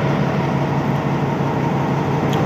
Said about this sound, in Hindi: जनरल मोटर्स यूनिवर्सल का लोकोमोटिव है ये